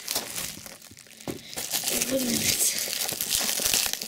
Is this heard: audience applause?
no